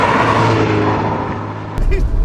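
A Porsche 944 Turbo S with an uprated 250 brake horsepower engine and about 143,000 miles pulls hard under acceleration, its loud engine drone steady before a brief gear-shift break and renewed roar.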